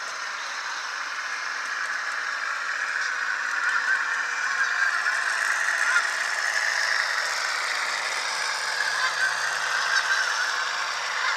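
Galloping Goose horn from an HO scale Budd RDC model train, a steady continuous honking tone that wavers like geese calling, loud and close, sounding alone for about eleven seconds.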